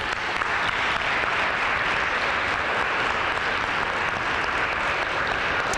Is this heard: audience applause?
yes